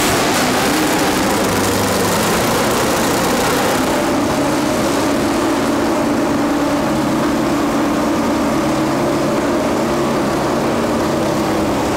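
A big 1966 V8 engine rumbles loudly at a steady idle, a deep continuous drone close by with no talking.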